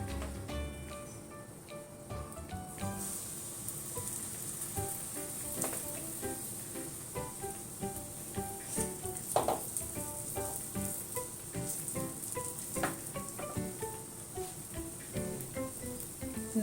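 Batter mixture sizzles steadily in melted butter in a pan, a close, continuous crackling hiss that runs evenly throughout with no voices.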